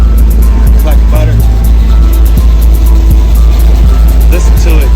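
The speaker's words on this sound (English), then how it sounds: "this engine just runs so smooth" A Chevy Suburban OBS engine idles steadily up close, a low continuous drone with a smooth, even rumble held for the whole stretch.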